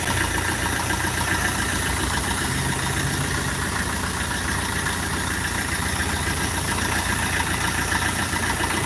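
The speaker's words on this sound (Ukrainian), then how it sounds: "Тракторець дуже гарно працює." A mini tractor engine idles steadily and loudly at close range, a constant low mechanical rumble with vibration that holds even throughout, with no speech over it.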